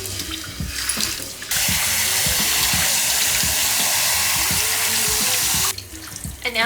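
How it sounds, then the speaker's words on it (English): Hot water runs in a home shower, a steady loud hiss of spray that starts abruptly after a moment of quieter sounds and continues for several seconds before cutting off, with no talk. "I'm running the hot water."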